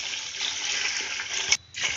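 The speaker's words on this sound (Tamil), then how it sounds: "நம்ம 3 படி தண்ணி ஊற்றிருக்கோம்" Water poured into a large cooking pot while making mutton mandi biryani, a steady close gushing splash that cuts off briefly near the end and then resumes.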